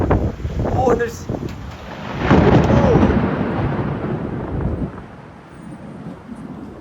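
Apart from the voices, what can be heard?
thunder from a big lightning storm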